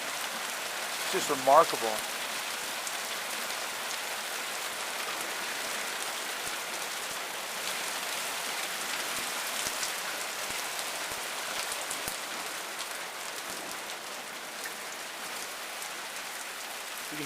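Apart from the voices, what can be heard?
heavy rain in New Mexico building in intensity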